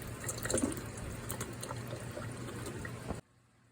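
Liquid pours steadily into an Instant Pot, a splashing, trickling stream that runs for about three seconds before cutting off abruptly.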